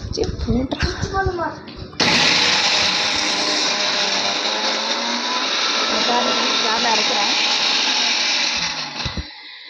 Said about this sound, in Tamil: இப்போ நான் ஜாரில் அரைக்க போகிறேன்.